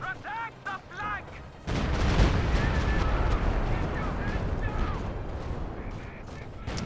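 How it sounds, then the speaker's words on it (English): Stuka dive-bomber barrage in a World War II strategy game, heard as a heavy rumbling roar of explosions and bombardment that swells in after a brief quieter stretch and stays dense and loud, with whistling tones drifting over it. "here comes another Stuka barrage"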